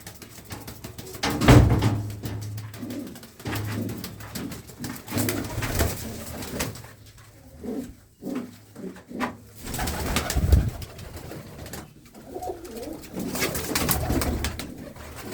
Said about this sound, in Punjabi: ਇਹ ਕਿਹੜੀ ਬਰੀਡ ਦੇ ਕਬੂਤਰ ਆ